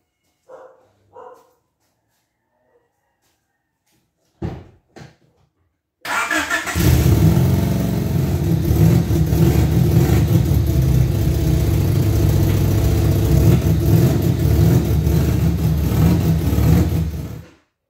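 A Honda Civic engine starts after a few faint taps and clicks, then idles steadily and loud, a continuous close rumble for the remaining stretch of the clip.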